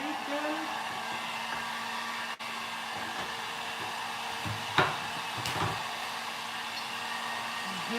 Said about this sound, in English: I'm going to come back in now with a heat gun.